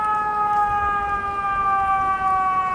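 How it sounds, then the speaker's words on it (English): Ambulance siren on a New York street in Hell's Kitchen, a steady wailing tone approaching through city traffic noise, clear and fairly loud with no talk over it. "there's another ambulance coming."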